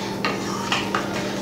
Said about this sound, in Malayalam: അപ്പം നമ്മളിത് വറുത്ത് മിക്സ് ചെയ്തതിന് ശേഷം ഒന്ന് ഇളക്കുക